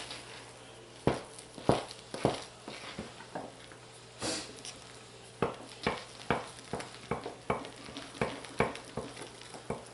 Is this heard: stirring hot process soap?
yes